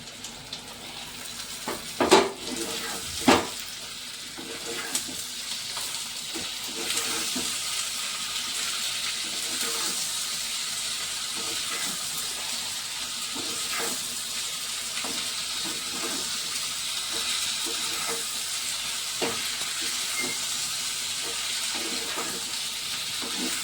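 Chicken pakoras simmer in a gravy, a continuous wet bubbling sizzle that runs throughout, opened by a couple of louder knocks as the pieces go into the pan.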